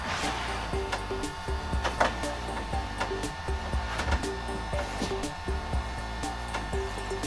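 A heat gun blows steadily on a vinyl seat cover being fitted to a Yamaha SUV 1200 WaveRunner seat in a custom car shop, a continuous close whooshing hum with small clicks and handling noises over it.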